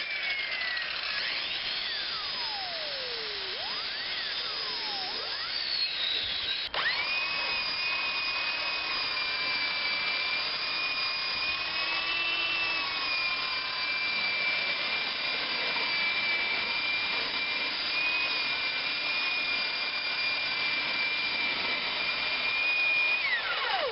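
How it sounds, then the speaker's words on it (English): Circular saw tilted to 45 degrees trimming the edge of a board for an outdoor wheelchair ramp; a steady, loud whine runs throughout with shifting pitch as the blade bites. "take some material off the very edge here with the circular saw"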